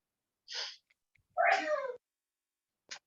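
A sneeze: a quick breathy burst followed by a longer nasal, meow-like vocal sound, close and clear against silence, then a tiny click.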